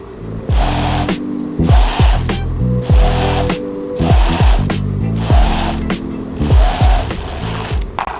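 An overlock sewing machine stitches elastic onto a bikini in loud, close whirring runs of about a second each, repeating with brief pauses and mechanical clunks between them.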